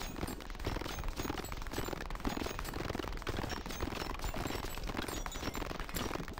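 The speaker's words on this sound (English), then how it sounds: "SMGs are so fun. The way they're constantly just shooting." Rapid SMG fire in the Brotato video game, a dense, unbroken stream of quick shots that stays loud and steady throughout, with no talking over it.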